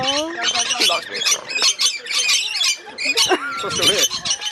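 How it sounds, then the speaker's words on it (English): A pet bird squawks and chirps over and over, harsh, loud and close, with people talking underneath. "It's the bird."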